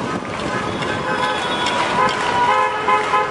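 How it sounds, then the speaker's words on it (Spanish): Car horns honking from passing cars at a cacerolazo street protest at a city intersection in Corrientes and Medrano, Buenos Aires, with repeated toots over wind noise, traffic and crowd noise. "Y los autos que vienen de ambas las avenidas siguen el bocinazo"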